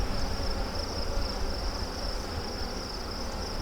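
Honey bees swarm around an open hive during a two-week check, a continuous close insect buzz with a steady high whine over low rustling, with no voices.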